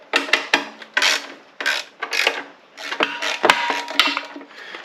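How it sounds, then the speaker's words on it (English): Bolts being tightened down on a Briggs & Stratton 6.75 carburetor from a log splitter: a close series of ratcheting clicks and metallic rasps in uneven bursts, with a few sharp taps and no talking. "We'll go ahead and tighten these all down."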